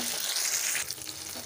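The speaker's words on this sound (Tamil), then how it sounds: "பாருங்கள், நல்லா காடை பொரிஞ்சிடுச்சு." Quail pieces frying in hot oil on a medium flame, a steady broadband sizzle and crackle that holds close and fairly loud throughout, easing slightly toward the end.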